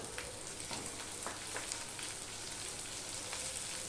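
Potatoes and half-fried onions sizzling in a pan for a prawn curry, a steady soft crackle with scattered pops throughout, fairly quiet and close, with no talking.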